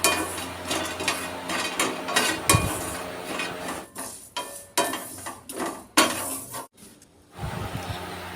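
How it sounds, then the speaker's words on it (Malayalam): Multigrain mixture dry roasted in a pan for laddu, a spoon scraping and clinking against the metal pan in irregular stirring strokes with a faint dry sizzle, close up, no talk. "ഇതെല്ലാം ഒന്ന് ചെറിയ ബ്രൗൺ നിറാവുന്നത് വരെ ഒന്ന് റോസ്റ്റ് ചെയ്തെടുക്കാം."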